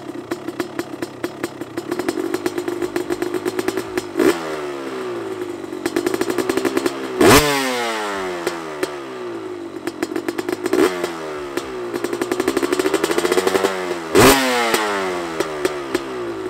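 A Honda CR250 two-stroke dirt bike engine idles during break-in with a rapid, rattling putter, then repeatedly revs up and drops back down in several loud, nearby throttle blips.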